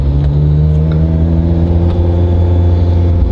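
A Ferrari engine hums and revs loudly and close by as the driver practises gear shifts, a sustained throaty drone with slight pitch changes and no speech.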